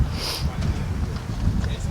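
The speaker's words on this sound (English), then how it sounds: "It is super windy." Steady, heavy wind at a bass fishing tournament in Australia buffets the microphone with a continuous low roar and rumble.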